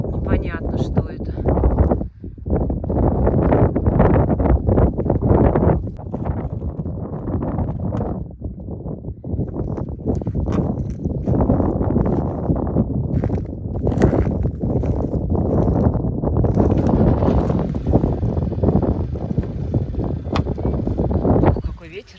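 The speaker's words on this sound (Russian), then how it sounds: "Ох, какой ветер." Loud, roaring wind near Yevpatoria, Crimea, buffets the microphone in rough, sustained gusts, with only a short lull early on.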